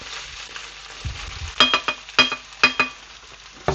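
Chopped onion fries in a pan for Hungarian stuffed cabbage, a close sizzle broken by several sharp clinks and scrapes of stirring in quick bursts, with no voices.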